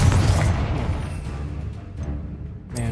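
A Confringo spell blast in Hogwarts Legacy, a loud deep boom with a rumbling tail that fades over a few seconds before a fresh burst at the end.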